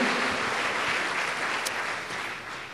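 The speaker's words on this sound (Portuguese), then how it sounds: "vamos aplaudir ao Senhor" A church congregation applauds in praise, a dense, loud, continuous wash of clapping from many hands that fades slightly toward the end.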